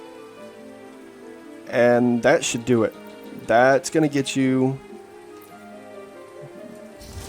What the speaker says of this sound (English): I just prefer the rain heavy because it gives a louder and more pronounced rain sound.